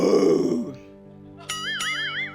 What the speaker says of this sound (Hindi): ये मैंने जो लंच खाया उसकी डकार थी